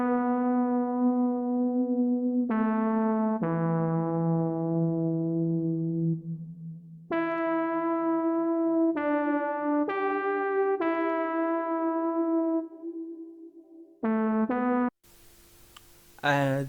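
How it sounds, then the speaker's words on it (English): The Earth Environment Keys synth preset from Cradle the Prince plays a slow sequence of sustained, warm keyboard notes and chords with soft decays, ending in a brief burst of noisier sound. "I also layered it with another synth from Cradle the Prince. The name of this preset is Earth Environment Keys, and it sounds like this."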